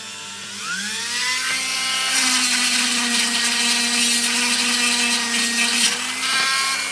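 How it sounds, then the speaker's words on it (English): A Dremel rotary tool grinds out the pin channels of a cable connector, starting with a rising whine that settles into a loud, steady high-pitched buzz with gritty grinding texture, up close and uninterrupted. "So what we're going to do is quickly Dremel these."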